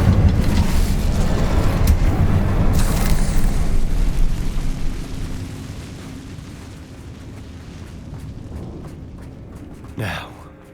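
A roaring fiery blast from the Incendio spell in Hogwarts Legacy, loud and rumbling at first, then fading into a softer crackling burn with a short whoosh near the end; a voice speaks briefly.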